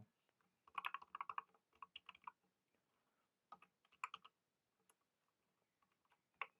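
Bursts of keyboard typing while entering a Go import path for the zerolog package in code, quiet and fairly close, with irregular clusters of keystrokes separated by short pauses.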